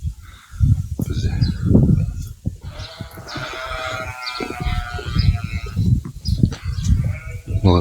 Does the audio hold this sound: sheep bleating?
yes